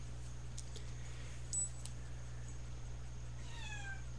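A faint, brief meow rises and falls near the end over a steady low electrical hum and quiet background hiss.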